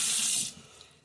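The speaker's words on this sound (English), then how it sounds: "So just add some water" Water runs from a tap into a sink for washing fig seeds, a steady close rush that cuts off after about half a second, leaving a faint trickle.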